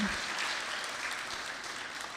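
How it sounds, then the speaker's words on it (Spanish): An audience claps at a climate intergenerational forum in Santa Cruz, a broad, even wash of applause that holds steady and close for a couple of seconds without speech over it. "Aplausos, por favor"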